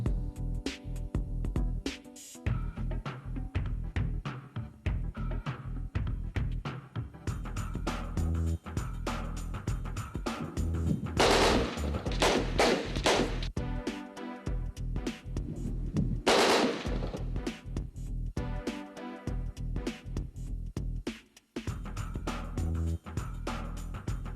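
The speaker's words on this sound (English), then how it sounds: "Firing with live bullets in the firing range then becomes a routine practice." Live rifle fire at a military academy firing range in Bangladesh, loud bursts and rapid repeated shots crackling almost continuously, with heavier volleys standing out midway.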